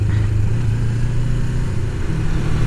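1989 Suzuki GS500 cafe racer motorcycle ridden on icy roads, its engine giving a steady, close, loud drone with low throbbing and wind rush, with no change in pitch.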